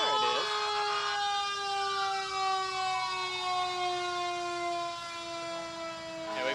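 An ambulance siren wails steadily through the 2018 Hamilton Fourth of July parade, loud and close, holding long sliding tones for several seconds with little pause.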